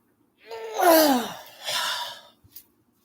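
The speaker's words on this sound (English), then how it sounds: "Yawn and stretch." A close, drawn-out yawn rises into a voiced, moaning tone, followed by a breathy second exhale and a small click, with no other talk.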